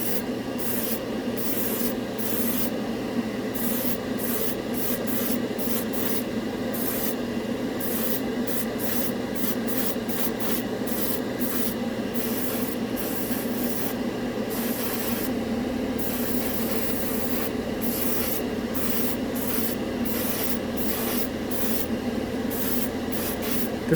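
An airbrush sprays Turbo Dork Shell Shocked color-shift paint over silver aluminum, a continuous close hiss of air running the whole time, broken by frequent brief stops and restarts.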